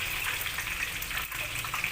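Water pours steadily into a pot of mung bean soup, a continuous splashing gush at even loudness for the whole moment with no voices.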